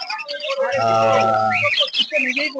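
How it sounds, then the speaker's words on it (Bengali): Budgerigars chirp at a busy bird market in Uluberia, a dense tangle of bright, overlapping twitters and calls close by, with a low steady hum partway through and people talking nearby. "এখানে বদ্রি পাখি আছে"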